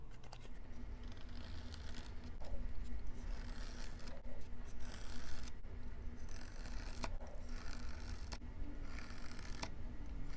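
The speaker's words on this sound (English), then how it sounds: "I'm cutting maybe 1/3 to halfway through the foam" Blade scoring foam board, cutting partway through the foam, a quiet repeated scraping and rasping drawn along in strokes with brief sharp clicks, close and faint over a low background hum.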